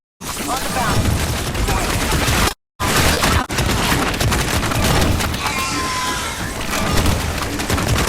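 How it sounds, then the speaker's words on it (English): Plasma bombardment explosions in the Starship Troopers: Extermination video game, a dense, loud barrage of booming blasts and crackling impacts that runs almost without pause, broken by one brief silence. "Troopers, this sector is under plasma bombardment."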